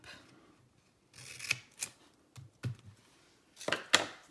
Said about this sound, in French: Je vais venir couper.